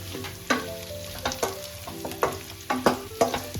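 Diced papaya and potatoes sizzle steadily in a hot pan for a home-cooked chicken stew, with a series of sharp scraping clatters roughly every half second to second as the spatula stirs them.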